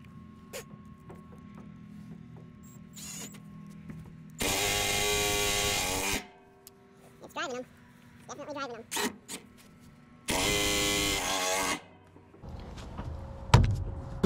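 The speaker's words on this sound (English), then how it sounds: "POPOMAN, it's doing it." A POPOMAN impact driver drives bolts into a trailer deck fitted along a C-channel, giving two long, loud hammering bursts of about two seconds each, separated by quieter clatter and handling noise, with some nearby talk.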